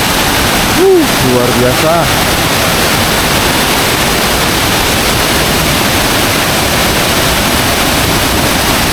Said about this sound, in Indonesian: curugnya indah banget, teman-teman. Dan sangat deras ya.